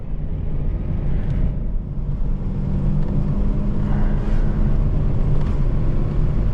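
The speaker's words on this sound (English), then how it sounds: "once the revs are high, it gathers speed quite well" A Peugeot 309 accelerates hard while overtaking on an Indian road, its engine drone rising steadily and loud from inside the cabin, with a continuous low rumble and road noise and no talk over it.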